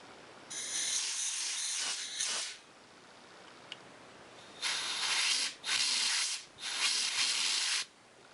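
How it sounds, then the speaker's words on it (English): Compressed air hisses through a Polaris 400L oil injection pump check valve in several bursts, one long blast followed by three shorter ones, close and steady with brief pauses between them. "I'm going to take my compressed air line and I'm going to blow through this valve"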